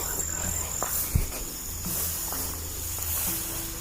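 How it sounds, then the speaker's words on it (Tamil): Grasshoppers chirping at night in an overgrown abandoned place, a steady high continuous trill running throughout, with faint footsteps and rustling nearby and brief low murmurs. "வெட்டிக்கிளி தான் இருக்கு."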